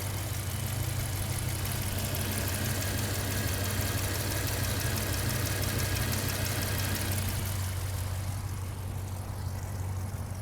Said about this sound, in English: I think you're getting a good listen to the engine at idle.